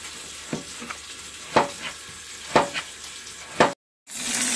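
Fat rendering in a frying pan for fried potatoes gives a steady, close sizzle broken by several sharp crackles and spatters, with one brief cut near the end.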